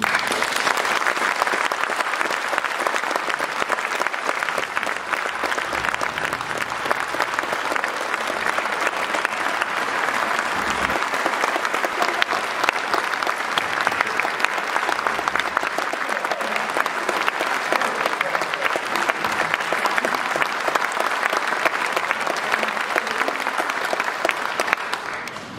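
Congress audience of the human rights league applauding by acclamation for a new honorary president, sustained loud steady clapping from a large hall crowd throughout.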